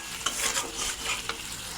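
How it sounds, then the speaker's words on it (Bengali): Spice masala being stir-fried in a pan for a vegetarian banana-flower kofta curry, with a steady sizzle and a few scraping stirs, close and fairly quiet, without talk. "এবার মশলা আর একটু ভালো করে কষিয়ে নেব।"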